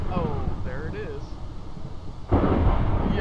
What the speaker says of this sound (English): it just started thundering and lightning